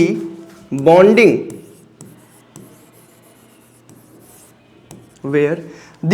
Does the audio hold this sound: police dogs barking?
no